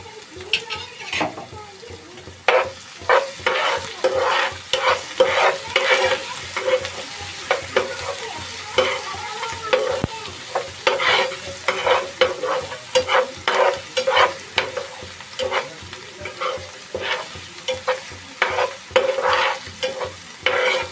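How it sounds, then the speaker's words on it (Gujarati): Ginger garlic paste sizzles in a pan for chicken gravy while a spoon stirs it in quick repeated scrapes, a loud close frying hiss with rhythmic stirring clatter throughout. "હવે આપણે નાખીશું આદુ લસણનો પેસ્ટ."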